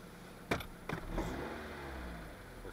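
A Mitsubishi 2.0 GDI 4G94 engine runs in a workshop after its faults were cleared. It gives a few sharp knocks, then a soft rising swell as it answers the throttle, all faint and without voices.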